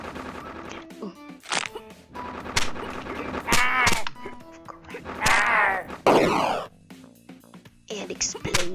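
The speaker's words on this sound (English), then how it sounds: "And explosions." Explosions and gunfire erupt in the video game Iron Snout, with repeated sharp bursts and crashes in uneven clusters, some booming blasts ringing out loudly amid game effects and cartoonish squeals.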